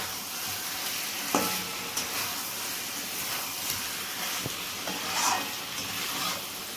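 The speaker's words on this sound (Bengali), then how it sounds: "এবার মিনিট দশেক কষার পর আলুগুলো দিয়ে ভালো করে একটু কষিয়ে নেওয়া হচ্ছে" Potatoes and mutton sauté in a pan of spiced curry, giving a steady loud sizzle and hiss with occasional scraping stirs and clacks of the spoon, close up and with no talking.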